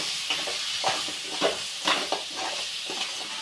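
Close-up sizzling of crab gravy frying in a pan, with a spatula scraping and stirring in irregular strokes over a constant hiss.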